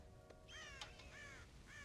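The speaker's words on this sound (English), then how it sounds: "God damn crows!" Crows caw in the video game Red Dead Redemption, several harsh raspy calls in quick succession, faint and at a distance over a low steady ambient hum.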